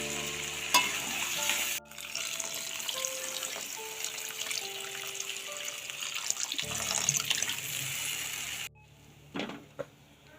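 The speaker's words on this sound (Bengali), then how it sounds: "একটু ঢাকা দিয়ে এটাকে কষতে দেবো।" Curry being sautéed and cooked down in a pan on a gas stove, with a steady close sizzle and the clatter of stirring running for most of the clip before dropping away to quieter kitchen sounds near the end.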